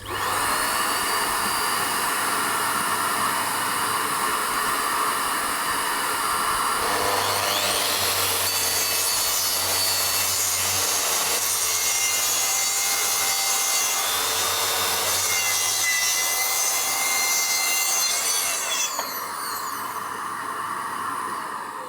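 A track saw running steadily while cutting a strip of wood in a workshop, with a vacuum extractor droning alongside, a long continuous loud whine and rasp with no talk.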